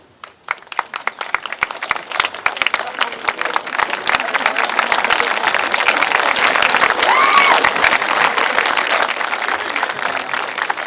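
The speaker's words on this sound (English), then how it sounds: "acknowledge the support that you've received from the people in attendance here this evening" Graduating class and guests at a 2023 high school commencement ceremony applaud together, a sustained round of clapping that builds from scattered claps into a loud, dense wash and holds steady for about ten seconds.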